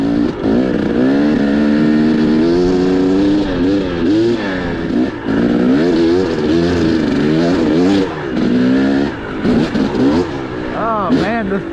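A dirt bike with a Keihin PWK carburetor drones and revs continuously up close, its engine pitch rising and falling through gear changes under heavy wind rush.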